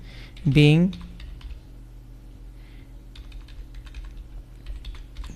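Computer keyboard typing while entering an accounting narration for a petty cash voucher, a quick run of close clicks, with a brief rising whistle-like tone near the start and faint background noise.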